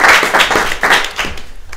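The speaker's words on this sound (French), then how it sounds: "Il faut applaudir tout le monde" Audience applause at the end of a live show, a short loud burst of dense clapping close by that fades slightly toward the end.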